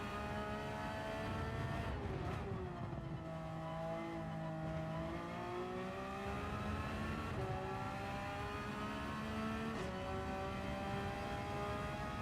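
A Porsche race car engine in Gran Turismo 7 revs hard and changes gears repeatedly, its tone climbing and dropping in several cycles, loud and close with no talking.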